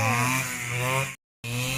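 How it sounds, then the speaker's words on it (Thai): A Makita brush cutter engine fitted with a modified float carburetor, revving hard with a loud, buzzing two-stroke whine. It cuts out abruptly into near silence, then returns at full throttle, all close by. "มาดูการสาธิตการตัดหญ้าครับ"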